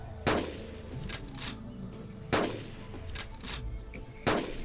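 Rifle shots fired at a Styracosaurus in the hunting game Carnivores Legacy: three sharp, loud reports spaced about two seconds apart, each followed by a brief decay and fainter in-game rustling.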